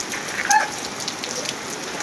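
Steady heavy rain patters and hisses on a surface during a typhoon at a school, with a few brief drips standing out; no voices.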